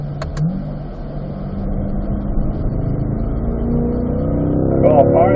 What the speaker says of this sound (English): As we get to the top here, we're going to downshift to 3rd gear.